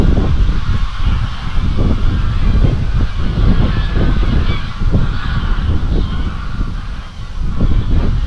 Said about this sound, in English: All the geese, I don't know if you can hear them all in the background